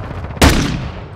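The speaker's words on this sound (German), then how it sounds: "Betäubungsgranate geworfen." A stun grenade detonates in Call of Duty: Modern Warfare II multiplayer, one sudden sharp blast that cracks loudly and then rings off into a long fading hiss.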